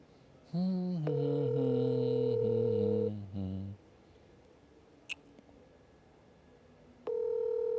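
Telephone ringback tones repeat while a call waits to be answered, a steady buzzing pulse sounding twice with a pause between, followed by a brief click and another tone starting near the end.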